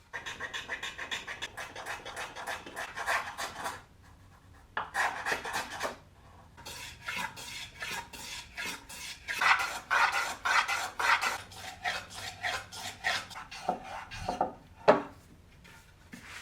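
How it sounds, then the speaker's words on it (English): A hand plane takes repeated shooting strokes along a wooden edge on a shooting board while making bench hooks, giving close, rasping swipes in uneven bursts with brief pauses between them. "when I take the first shooting strokes on this shooting board side"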